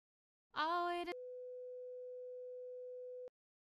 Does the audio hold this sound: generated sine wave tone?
yes